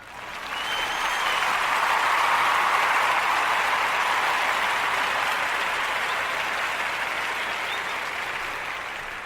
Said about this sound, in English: Going to give them a round of applause for today.